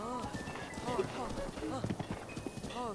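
A royal horse galloping in Zelda: Breath of the Wild, rapid rhythmic hoof clip-clops under game music and someone talking over it, steady and close.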